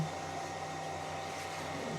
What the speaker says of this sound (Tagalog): Meron ako dito, pang tuyo ng damit. So, meron niyang blower dito.